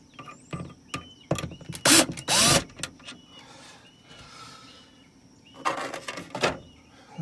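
Screws being backed out of a Fantastic Fan roof vent on an RV, heard as several short bursts of close mechanical whirring and ratcheting separated by quiet pauses.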